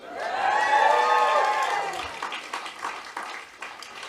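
Audience at a benefit event for the wrongfully convicted bursts into loud cheering and applause that swells early, then eases into scattered clapping and fading crowd noise over a few seconds.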